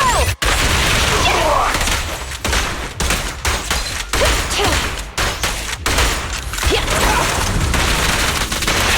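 Sustained loud gunfire in Zenless Zone Zero, a near-continuous fusillade of shots with brief gaps, close and heavy throughout.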